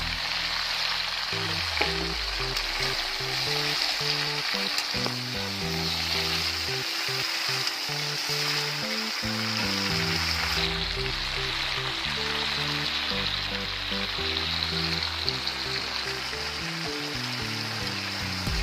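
Green chillies dropped into hot oil with a mixed vegetable curry sizzle and crackle steadily and loudly close by, a continuous frying hiss with bubbling texture and no talk.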